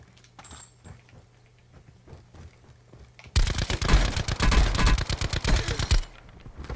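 Bursts of rapid automatic gunfire in Call of Duty: Black Ops 4 Blackout, beginning abruptly after quieter footsteps and movement, loud and close for about three seconds, then cutting off.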